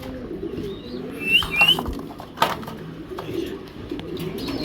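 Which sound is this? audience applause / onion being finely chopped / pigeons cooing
pigeons cooing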